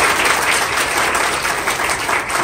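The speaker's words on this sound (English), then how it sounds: "give Bethany and Kate a round of applause" Sustained applause from a conference audience, steady and dense clapping throughout with no talk over it.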